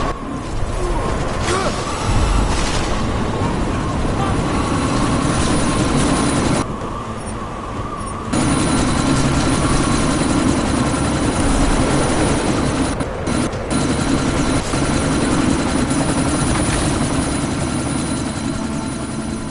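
Helicopter in the video game Deus Ex: Mankind Divided, a steady loud rotor and engine drone running throughout amid a sandstorm, with a brief drop partway through.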